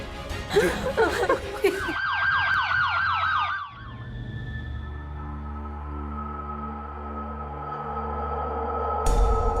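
A wailing ambulance siren sweeps up and down, loud and close, then gives way to a steady droning tone with a low engine rumble.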